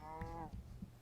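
A cow in the Minecraft video game lets out a single drawn-out, close moo that fades off, followed by a few soft thumping game noises.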